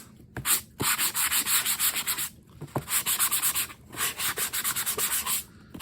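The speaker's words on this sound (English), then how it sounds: "I am going to give it a light sand." Light hand sanding over a gesso-coated surface sealed with Mod Podge on a mixed-media assemblage: close, raspy strokes in two bursts of rapid back-and-forth rubbing with a short pause between them, no talking.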